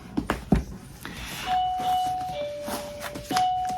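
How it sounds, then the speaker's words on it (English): A dog rings a bell hung by the door to ask to go outside, giving several clear metallic chimes with a lingering ring amid light shuffling in a quiet room. "It's not my doorbell."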